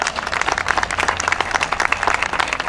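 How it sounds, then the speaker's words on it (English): Crowd at an AIDS 5k run and walk event bursts into loud, steady applause for volunteers, many hands clapping close and continuously with a rapid, crackling texture throughout. "Give them a round of applause."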